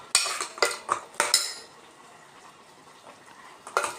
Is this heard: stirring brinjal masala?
yes